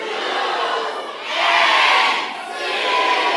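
A massive crowd at a rally in a large hall shouts the letter C in a sustained roar, swelling louder in the middle and staying loud throughout, distant and reverberant with no single voice standing out.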